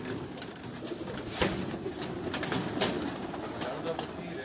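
Tournament pigeons coo in low, overlapping murmurs, with faint indistinct voices and scattered sharp knocks in the background.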